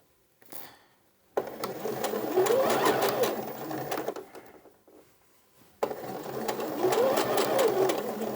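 A sewing machine stitches a dart on an A-line skirt in two close, steady runs of rapid mechanical whirring, separated by a short quiet pause with soft handling noises.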